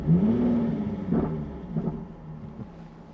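A 2014 Jaguar F-Type 3.0 V6 S starts up with a rising whir into a revving rumble that settles to a lower idle, heard close and moderately loud, with no talking.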